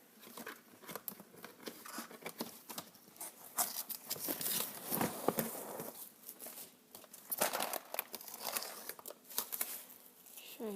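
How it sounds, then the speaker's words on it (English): Plastic wrap is pulled and handled while making homemade ice cream, giving a continuous, close-up, irregular crinkling and crackling with sharp bursts throughout. "Go ahead and grab my plastic wrap."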